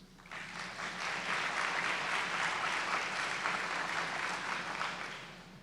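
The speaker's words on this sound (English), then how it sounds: "if you guys would join me in a round of applause" A steady round of audience applause at a hospital residency program graduation, building quickly and holding at a moderate level from a roomful of people before easing off.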